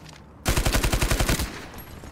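Automatic rifle fire in the video game Ironsight, a single close burst of about a dozen rapid, evenly spaced shots lasting roughly a second, loud and sharp, then a fading tail.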